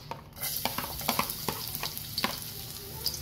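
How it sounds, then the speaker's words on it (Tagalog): Garlic sautéing in hot oil in a frying pan, a steady close sizzle broken by repeated scraping stir strokes at an irregular rhythm. "Ilagay na ang ating bawang."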